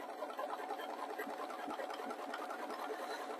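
A sewing machine stitches a bulky swim bag, a soft, steady whirring hum running unbroken and fairly quiet throughout, with no talking.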